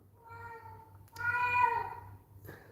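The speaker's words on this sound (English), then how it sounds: "my cat is distracting me now" A domestic cat meows indoors close to the microphone, a few drawn-out tonal cries in sequence against a low hum.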